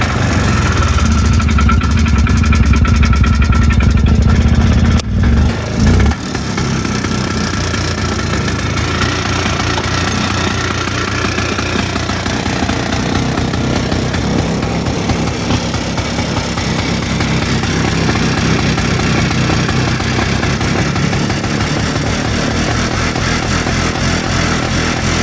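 A Polaris Trailboss 250 4x4 ATV with a Mikuni carburettor idles close by, struggling with a lean idle on choke. Its steady, loud, buzzy engine drone shifts slightly in tone after a few seconds, then holds a continuous idle.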